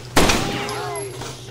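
Gunfire in the Rainbow Six Vegas video game: one sharp, loud shot with a quick follow-up crack, then a ringing decay over a low background hum.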